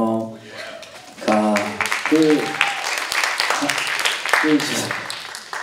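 An audience at an SBS Mobidic 'Gomakmate' press presentation in Korea claps after a singer's short performance, a moderate patter of applause running underneath people talking throughout.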